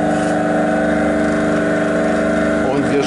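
A Holzmann TS305 disc sander's motor hums in a steady drone, running evenly throughout, with a slight shift in tone near the end.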